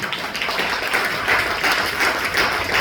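A church congregation at a Sunday service applauds after a scripture reading, giving a dense, continuous round of clapping from many hands that stays even and full throughout.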